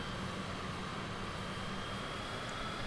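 Steady airplane engine drone in Microsoft Flight Simulator 2020 before takeoff, a constant even hum at idle-to-taxi power that stays level throughout with no speech.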